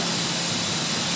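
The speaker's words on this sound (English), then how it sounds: "we're going to spray on coat number two, Tropical Turquoise Base" A spray gun lays a Tropical Turquoise base coat onto a car's dashboard, giving a loud, steady, close hiss that runs without a break.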